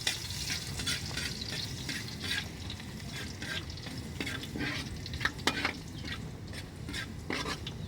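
Garlic fries in hot oil in a pan, giving a steady, close sizzle with occasional crackles and light utensil taps, and no talking.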